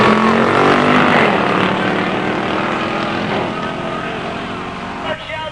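Two 1969 Shelby muscle cars with 428 Cobra Jet engines launch at a drag strip, their engines roaring loud and strained as they pull away and slowly fade, with an announcer talking over the noise.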